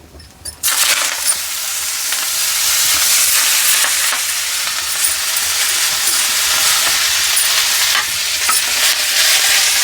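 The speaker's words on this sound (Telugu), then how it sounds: "ఇదే ఆయిల్లో మనం మెంతి కూర వేసుకోవాలి" Fenugreek leaves dropped into hot oil erupt into a loud, dense hissing sizzle that starts abruptly after a quiet moment and stays intense with crackles and stirring throughout.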